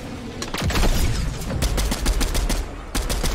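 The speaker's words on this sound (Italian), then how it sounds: "Vai, una bella cannonata di fronte." Rapid, loud bursts of cannon fire from the Optimus cannon in the video game Fortnite, a dense volley of sharp blasts repeating over a few seconds with brief gaps between clusters.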